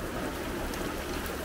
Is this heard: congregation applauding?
no